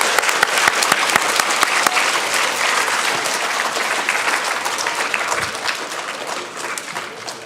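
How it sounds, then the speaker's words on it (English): A school audience applauds fourth graders at a Bulldog Pride awards assembly, a dense, steady roar of many hands that stays loud throughout and fades slightly toward the end. "Let's give our fourth grade friends a round of applause."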